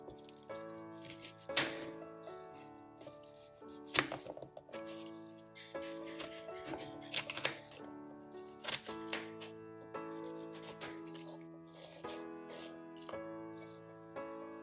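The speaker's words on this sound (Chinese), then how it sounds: "我哋就将啲隔夜油炸鬼咧切做一块块先" A knife cuts day-old Chinese fried dough sticks into pieces on a board, giving sharp, irregular crunchy chops spaced a second or two apart, close and distinct, over steady background music.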